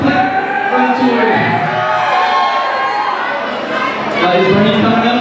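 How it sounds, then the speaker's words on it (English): An audience cheers and claps at a school rock night with a house band, a loud crowd roar with whoops and shouts that dips briefly before swelling again. "And a round of applause for Humphrey, our pet volunteer."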